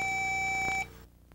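A Motorola StarTac cell phone from the 1990s gives a single clear electronic key beep as the recall button is pressed, a steady tone that stops abruptly and leaves near silence.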